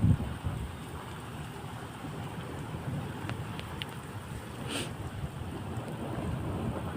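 Rain falls during a downpour in Saudi Arabia, a steady, even hiss of drops lasting throughout with no voices.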